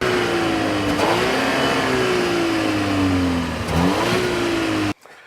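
A 2015 Volvo S60 T6 with a supercharged and turbocharged 2.0-litre four-cylinder accelerates hard, its steady engine drone climbing through the gears with brief dips at the shifts, then cutting off abruptly near the end.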